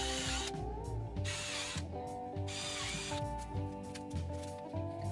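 A power drill whirs in repeated short bursts while drilling between pouches on a Tusken Raider bandolier build, the motor pitch rising and falling with ratcheting mechanical clatter close by.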